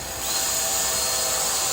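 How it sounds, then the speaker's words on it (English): A power drill spins up and whines steadily at high pitch, boring pilot holes into 2x4 wood for a couple of seconds. "I'm just going to drill pilot holes"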